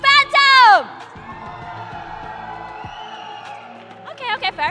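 An arena crowd at an esports grand final yells and whoops for Team Phantom, a short loud burst of cheering right after a host's shouted prompt, then dying to a murmur before voices return.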